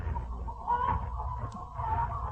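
Chickens cluck on a farm in an old-time radio drama, a steady low barnyard murmur of hens with brief louder clucks, heard alone with no talk.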